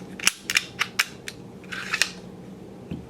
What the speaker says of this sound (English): Drop the magazine, it works, takes down just like a Glock.